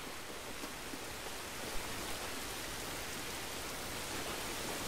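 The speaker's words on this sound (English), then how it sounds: "It's raining." Steady hiss of rainfall in the video game Star Wars Jedi: Fallen Order, an even wash of drops with no breaks, moderately loud and uninterrupted by speech.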